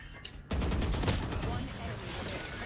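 A rapid burst of gunfire in the video game Valorant rattles out in quick repeated shots after a brief quiet moment, loud and close.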